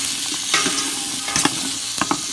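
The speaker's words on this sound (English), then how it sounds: "I'm just sweating the onions with the sausages so they get a little translucent" Sausages and onions sizzling in olive or canola oil in a pan over low to medium heat, with a continuous crackle and a few sharper spatters and stirring clacks, close by.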